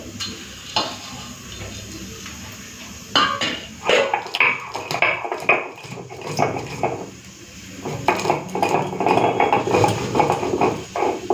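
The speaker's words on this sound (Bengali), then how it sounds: "শিলপাতি নিয়েছি, শিলে করে গুঁড়ো করে নেব।" Roasted garam masala with bay leaves being crushed on a traditional grinding stone (shil), giving irregular knocking and scraping strokes, close and fairly loud, with no talking.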